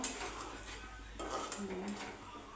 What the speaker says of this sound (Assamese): এনেধৰণে অকণমান সময় লৰাই থাকিব।